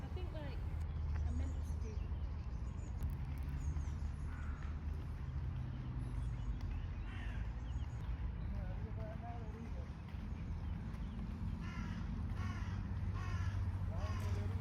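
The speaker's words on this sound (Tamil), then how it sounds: "ஆனால் அந்த காகம் கத்துற சத்தம் கேட்டது" Crows caw a few times in the distance over a steady outdoor hum of traffic and street noise, with voices in the background, at War Memorial Park in Coventry, UK.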